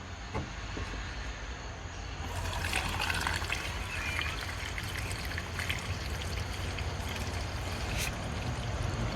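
Coolant is poured slowly into a Porsche Cayenne Turbo as a faint, steady trickle over a continuous low background rush, with a few small clicks.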